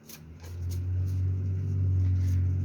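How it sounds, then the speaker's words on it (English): A loud car engine revs somewhere outside, a deep low rumble that swells and holds steady, heard at a distance. "Someone's got a loud car. I just heard rev head."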